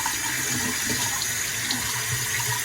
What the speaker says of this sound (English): We got the warm water going.